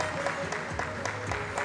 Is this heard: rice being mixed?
no